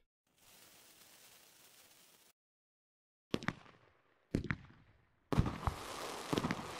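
A steady hiss runs for a couple of seconds, then three sharp crackling firework cake shots follow, each louder than the last, from a video game. No one speaks.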